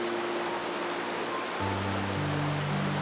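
Steady rain patters evenly through the whole stretch, with low sustained tones humming softly underneath and shifting slightly partway through; no voices are present.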